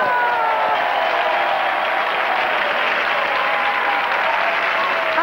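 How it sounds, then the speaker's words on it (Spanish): Loud, sustained applause from a live audience at a comedy or prank show, steady and dense throughout with no pauses. "Ok, un aplauso."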